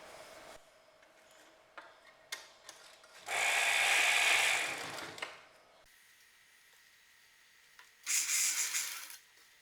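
A sewing machine stitching fabric for a girl's skirt and jacket whirs in two separate runs, a longer burst and a shorter one, with quiet handling clicks and fabric rustle between them.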